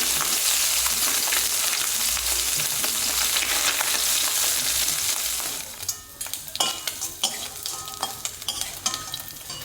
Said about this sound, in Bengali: মাছ ভাজা হয়ে গেছে, এখন মাছগুলো তুলে নেব।